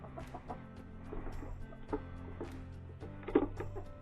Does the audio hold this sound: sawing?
no